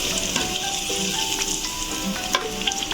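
Crushed garlic with its skin on fries in hot oil in a pan, giving a steady, close sizzle with occasional light stirring scrapes.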